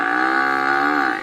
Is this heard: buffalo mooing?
yes